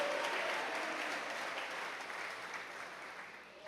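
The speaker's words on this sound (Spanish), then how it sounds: "porque le dé esas palmas con toda su alma a Jesús" A church congregation clapping during worship, a dense wash of hands applauding together that fades gradually over a few seconds, fairly distant and without talk.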